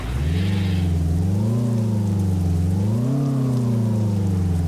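A deep, steady Peterbilt 351 truck engine idle in Euro Truck Simulator 2 rumbles continuously, its low harmonic drone rising and falling slightly in pitch as the revs drift.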